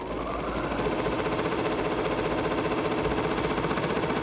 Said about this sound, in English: we're going to stitch one more placement line